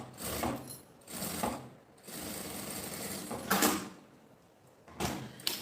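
Sewing machine stitching fabric for a bag, running in close, loud bursts of steady whirring mechanical hum separated by short pauses.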